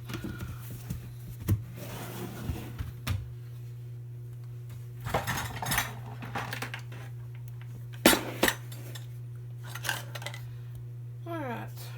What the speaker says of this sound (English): I'm just going to use that knife to stir it up.